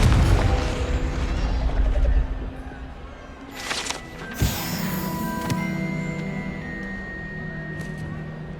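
Confringo fire spell in the video game Hogwarts Legacy, a booming blast at the start followed by crackling impacts and rumbling game effects, with a voice shouting the spell.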